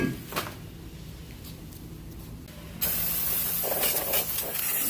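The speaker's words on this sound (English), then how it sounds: "Just spray it down with some brakes cleaner." A steady hiss of brake cleaner sprayed onto a Toyota RAV4 rear brake rotor begins partway through, loud and continuous over a faint background hum, with an earlier quieter hiss.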